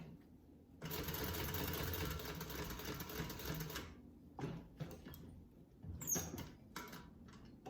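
A sewing machine runs in a steady fast burst while stitching a minimalist men's wallet from scrap fabric, then stops and gives shorter starts for a back stitch, close and loud.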